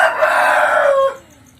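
A rooster crows once loudly and close in a chicken coop, a long strained call that trails off into quiet.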